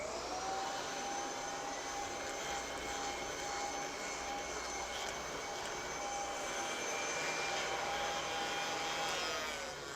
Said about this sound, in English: I'm going to re-vacuum the chair again, this time using the zip brush